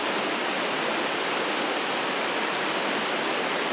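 Steady, dense rush of water streaming from a mountain spring at its source, continuous and close with no voices.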